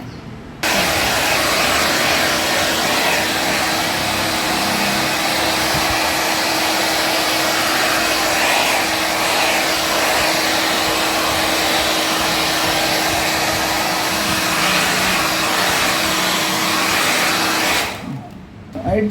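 Hair dryer blowing on freshly washed hair after a home keratin treatment, a loud continuous close-up roar with a steady hum that runs for almost the whole clip and cuts off at the end.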